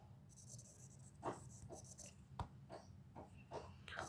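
Pen writing out a maths solution on paper, faint scratchy strokes in short irregular bursts close by, with a quiet hum underneath.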